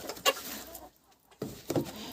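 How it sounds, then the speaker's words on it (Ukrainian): A brooding hen clucks in a backyard poultry setting, a few soft, short clucks spaced apart with quiet gaps, fairly faint and close. "диви на цю наглу курку"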